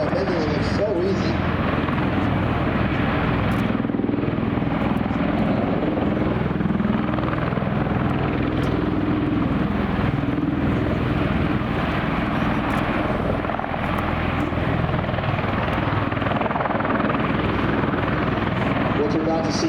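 A Marine Corps MV-22 Osprey tiltrotor flies a demonstration at an airshow, its heavy rotor thrum and engine roar loud and continuous throughout, with an announcer's voice faintly under the noise.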